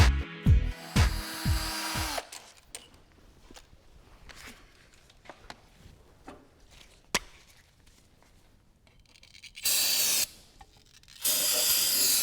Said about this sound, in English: I also use a can of cleaner to spray it in there and dry it out